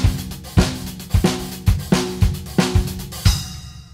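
Drum kit grooving a four-over-five sixteenth-note polyrhythm, with bass drum and tom hits accenting a repeating pattern under busy cymbal strokes, close and steady for a few seconds before ringing out.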